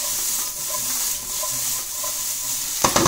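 Greens wilt and get tossed in a hot pan alongside pan-roasted fluke and a sweet potato, apple and pear hash, a steady close sizzle with soft stirring scrapes and a brief clatter at the end.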